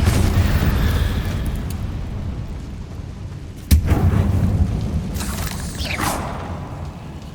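A Confringo fire spell explodes in the Hogwarts Legacy video game: a single sharp blast hits midway over a dense, rumbling game soundscape, followed by softer crackling bursts.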